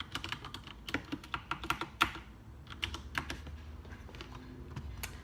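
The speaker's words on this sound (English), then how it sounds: "So let's just type in the movie blank check." Someone types a search on a computer keyboard: close, irregular key clicks in quick bursts with short pauses, a few louder taps among them, and no voices.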